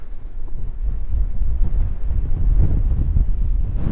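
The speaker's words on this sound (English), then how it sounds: "Yeah, that wind's picking up now," Strong wind gusting across an exposed hillside near a summit in the Southern Uplands, a loud continuous low roar buffeting the microphone with surging gusts.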